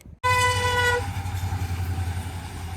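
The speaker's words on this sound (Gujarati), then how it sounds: "કહી દે બાય બાય કહી દે ટ્રેનને" A train horn sounds loudly for about a second, then the heavy rumble and rhythmic clatter of rail cars passing close by a level crossing continues.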